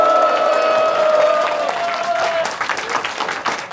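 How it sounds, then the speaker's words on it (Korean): Applause with some cheering from a crowd of about two hundred at a labour union staff retreat in an event hall, steady clapping with a faint sustained tone through the first half, then tapering into scattered claps. "큰 박수 감사드리고요."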